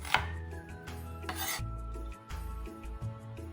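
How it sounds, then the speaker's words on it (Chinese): Knife slicing half a peeled white onion into strips on a board, heard as close rasping cuts and taps over a steady low hum. "白洋葱半个，去皮后像视频一样切成丝。"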